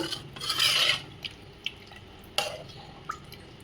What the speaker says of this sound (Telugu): అందుకోసం కొంచెం ఎక్కువ వాటర్ యాడ్ చేసుకోవాలి